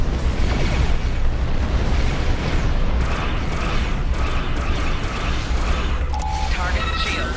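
A battleship being destroyed in the space combat game Star Trek Online during a Romulan Republic event, a loud, continuous rumbling blast with crackling bursts layered over it and electronic tones near the end, and a voice talking over it.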